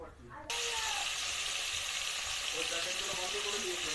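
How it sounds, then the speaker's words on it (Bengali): Fish frying in a pan, a loud close sizzle that bursts in suddenly after a quiet start and then holds steady, with faint crackles. "মাছ ভাজতে বসিয়ে দিয়েছি।"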